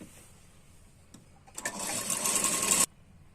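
An electric sewing machine stitches the sleeves of a double katori blouse in one brisk burst of rapid whirring lasting just over a second, starting after a couple of faint clicks and stopping abruptly.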